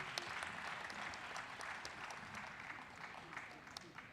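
An audience at an official elections launch event applauds steadily throughout, a dense wash of many hands clapping at a distance, fairly faint, with no clear voices over it.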